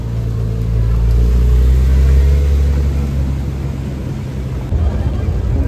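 A Porsche Panamera GTS sports car drives past on a street, a loud, steady low engine rumble that swells and then eases slightly as it goes by.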